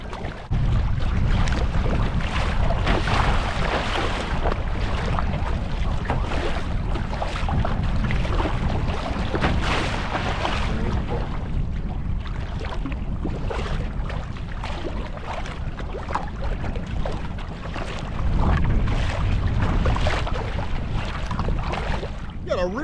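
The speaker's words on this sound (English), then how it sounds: "The wind picked up, starting to white cap." Steady wind gusts buffet the microphone over open lake water at Whiskeytown with whitecaps forming, a continuous rushing roar with occasional louder bursts, no voices.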